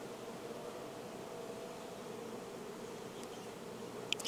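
Honey bees swarm over a hive frame of capped honey, nectar and hatching brood, their dense, steady buzzing drone filling the air close by, with a few faint clicks near the end.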